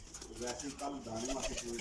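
Pigeons coo softly and briefly close by while someone speaks over them.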